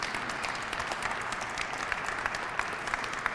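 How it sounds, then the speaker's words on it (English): Round of applause from an audience at a city memorandum of understanding signing on community benefits, honoring a councilman; steady dense clapping throughout, moderately loud with a few sharper claps near the end. "We can give him a round of applause."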